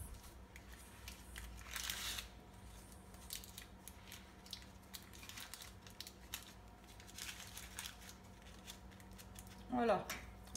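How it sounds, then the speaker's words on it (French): Scissors snip through parchment paper overhanging a tart tin lined with shortcrust pastry, a few soft crisp cuts spread through the stretch and ending in a brief louder snip near the end, with quiet talk faintly in the background. "Ensuite, je coupe le petit papier sulfurisé qui dépasse."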